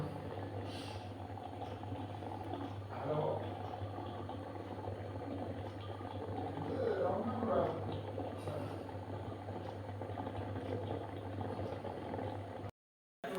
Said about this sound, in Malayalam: പിന്നെ ഞാൻ ഈ സ്റ്റീമറാണ് യൂസ് ചെയ്യുന്നത്